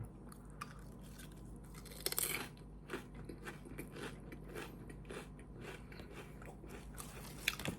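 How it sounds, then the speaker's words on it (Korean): Stacked potato chips, three at a time, are crunched and chewed close to the microphone, with sharp crisp bites followed by a run of quieter, irregular crunching and chewing sounds in a quiet room. "세 개씩 겹쳐 먹어야 맛있어요."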